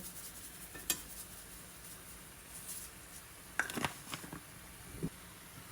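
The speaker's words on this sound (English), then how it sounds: "Stir it around some more and make sure that everything is cooked thoroughly." Ground beef seasoned with garlic salt sizzles softly in a pan while a utensil stirs and scrapes it, with a few sharp clinks of metal against the pan standing out over the steady frying hiss.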